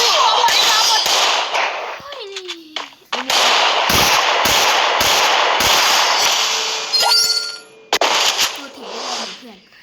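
Gunfire from the mobile battle game Free Fire, loud bursts of rapid shots and sharp cracks with metallic clangs and pinging game effects, up close across most of the stretch.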